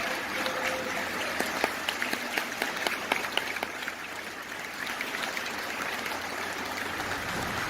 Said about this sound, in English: Please stand on your feet and give him a much round of applause.